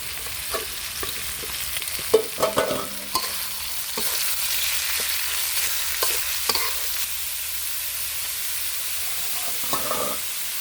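Fish frying in a pan of hot oil until golden and crisp, a steady close sizzle with occasional stirring clatter, no talk.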